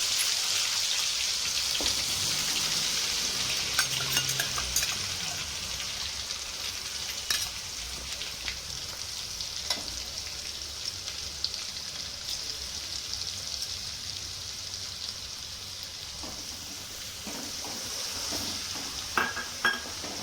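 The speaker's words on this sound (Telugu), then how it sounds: "మనము ఫ్రెష్గా ఈరోజు తయారు చేసుకున్న అల్లం పేస్ట్నే తీసుకొని ఇందాక మిగిలిన నూనెలో మంచిగా వేయించుకోవాలి" Fresh ginger paste frying in leftover oil in a pan, with a steady, close sizzle and crackle and occasional stirring scrapes throughout, no voices.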